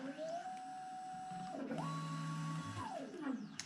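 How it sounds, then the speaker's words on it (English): A 3D printer printing a model part whirs with steady stepper-motor tones that hold, jump in pitch, then glide down as the head moves, heard in the background. "Sorry about the noise, I'm busy printing the X-Wing engine in the background over there."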